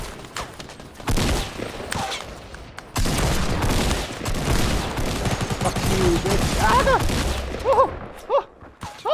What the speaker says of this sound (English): Shooting at us across the lake.